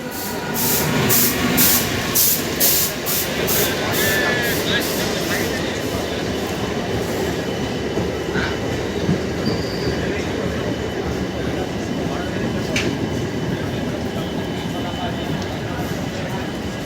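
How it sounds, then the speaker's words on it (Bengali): A train rolls past with a continuous rumbling roar and rhythmic clattering of wheels over the rails, loud and close, with a faint voice at times. "এই ট্রেনটা কি ট্রেন"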